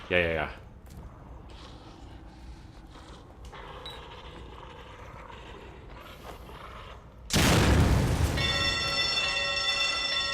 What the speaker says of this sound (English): I think I just set off a bomb on accident.